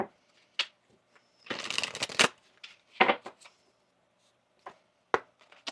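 Tarot cards are shuffled in a quick riffling burst, followed by scattered soft taps and slaps of cards being handled in a quiet room.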